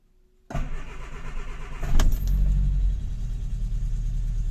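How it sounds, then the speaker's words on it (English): An MG 1100 car engine starts on choke after a winter lay-up: a quick cranking burst catches within about two seconds and settles into a loud, steady, rumbling idle close by, with no talking. "This car does tend to start beautifully."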